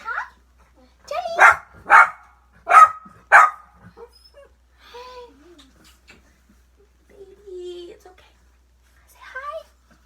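A pet dog named Jelly in a bedroom gives several short barks in quick succession, then softer whimpers and yips, close by in a quiet room.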